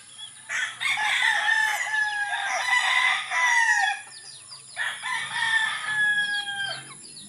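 Chickens on a small backyard gamefowl farm, hens with roosters nearby, give loud close crowing and clucking calls in two long bursts separated by a brief pause, with no talk over them.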